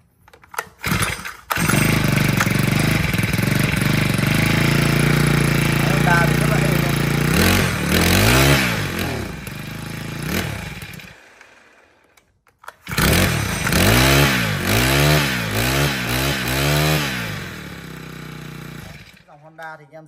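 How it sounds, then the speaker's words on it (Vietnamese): A Honda GX35 four-stroke engine is pull-started and runs loud and close with some revving, cuts out, then is restarted and runs again before stopping, with some talk alongside. "Rồi test nổ cho bác nghe tiếng máy con Honda GX35 này nhá."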